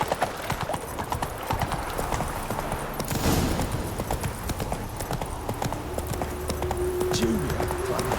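Horse hooves clip-clopping at a steady gallop in The Witcher 3, loud and continuous throughout, with a brief snort or whinny partway through and faint game voices underneath.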